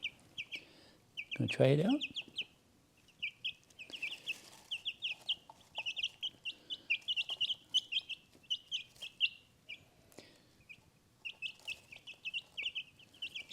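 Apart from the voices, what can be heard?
frizzle chickens clucking while pecking grain from a hand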